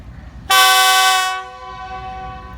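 The 102 Down Super Raftar passenger train departs a Pakistani railway station, sounding one loud, sustained horn blast for about a second, which fades into a lingering tone with low rumbling underneath.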